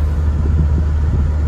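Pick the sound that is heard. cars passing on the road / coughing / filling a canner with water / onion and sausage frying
cars passing on the road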